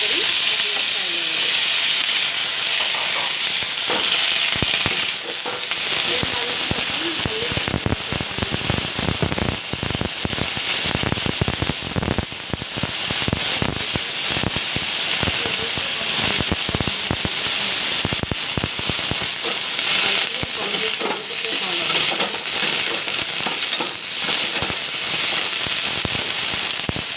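Cauliflower florets fry in hot oil for an Assamese fish curry, producing a dense, continuous crackling sizzle with sharp popping bursts throughout, loud and close.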